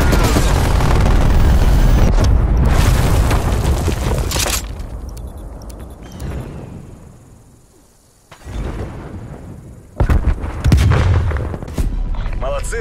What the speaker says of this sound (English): Enemy cruise missile launch detected.